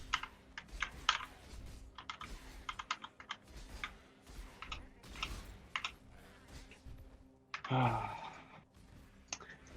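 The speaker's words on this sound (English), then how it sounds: "a mechanical keyboard" Rapid, crisp clicking of a small 60% mechanical keyboard being typed on, a steady irregular patter of keystrokes close by with a brief louder clatter near the end.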